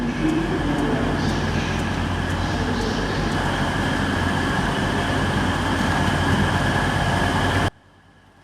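Interior of an EMR Class 180 diesel passenger train travelling out of London St Pancras, a steady loud rumbling drone of engine and wheels with faint tonal hums, cutting off suddenly near the end.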